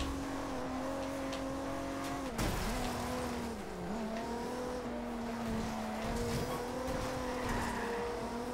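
Race car engines drone steadily at high revs in Forza Horizon 2, pitch dipping and climbing through gear changes with a brief tire scrub, loud and continuous with no talk.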